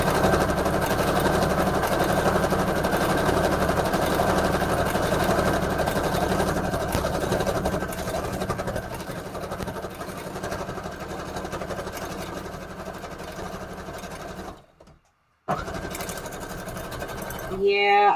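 Sewing machine running a decorative stitch on a paper collage, a loud continuous mechanical whir and clatter close by that eases off, cuts out for a moment, then starts again.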